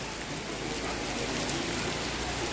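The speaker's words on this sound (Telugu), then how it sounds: "వర్షం చూడండి, కరెక్ట్గా నేను వెళ్ళిన టైంకి వర్షం అనేది స్టార్ట్ అయిపోయింది." Rain pours steadily at a glass bridge viewpoint in Coorg, a dense, even hiss of falling drops close by, constant and unbroken with no voices.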